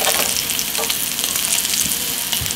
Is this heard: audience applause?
no